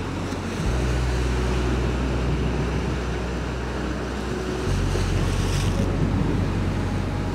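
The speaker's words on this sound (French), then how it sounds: "Il y a des grosses vagues là." Big ocean waves roll in along the coast near Gibraltar and Tarifa, a steady loud surf roar mixed with heavy wind buffeting the microphone, no voices.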